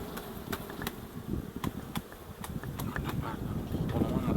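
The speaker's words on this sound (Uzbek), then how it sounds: "Bu yerda pishgan tuxum, arilar chiqyapti." Bees emerging from capped brood comb in a hive produce a faint, steady buzzing hum close by, broken by sharp clicks and taps of comb being handled.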